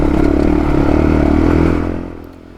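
Dirt bike engine climbing a narrow, rocky mountain pass on Imogene Pass, a loud, steady motor drone with rattling and clatter over rough ground that fades away near the end.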